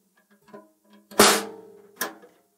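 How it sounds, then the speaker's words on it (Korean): A snare drum with its snare wires engaged is tapped softly a few times, then struck twice with bright, buzzy, rattling hits that ring briefly in a quiet room. "근데 이 스네어를 올리면"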